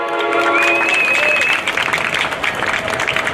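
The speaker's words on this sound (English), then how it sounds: "Let's give Recreation another round of applause" An outdoor crowd claps steadily for a municipal department at an East Orange LGBTQIA+ flag raising ceremony, with a few whoops rising over the sustained applause and a voice briefly audible underneath.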